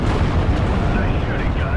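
An anti-tank gun in the World War II strategy game Steel Division: Normandy 44 fires with a loud, close boom followed by a heavy rolling rumble, and game voices sound alongside it.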